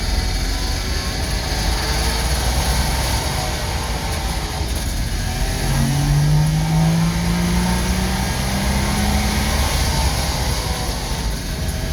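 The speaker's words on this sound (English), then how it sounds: "We'll rev her up a little bit." A two-stroke DKW car engine drones continuously from inside the moving car, with a rising rev tone around the middle over steady road and engine rumble.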